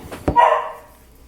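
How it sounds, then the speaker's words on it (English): A neighbor's dog barks outside, heard through open windows: a single short bark, fairly faint and distant, with a brief knock just before it. "I got the windows open so they're hearing the neighbor's dog talk"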